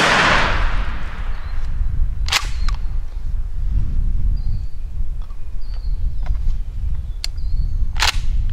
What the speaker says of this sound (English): we're ready to shoot another round